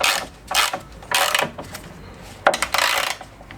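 Metal tools worked on the front axle of a Peugeot 206, a flat wrench and a 21 mm socket, producing several close, sharp clicking and ratcheting bursts with short pauses between them.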